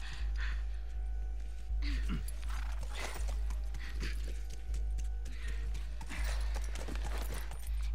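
Horse hooves clip-clop in a steady rhythm through a video game, with soft ambient game sound underneath and no talk over the steps.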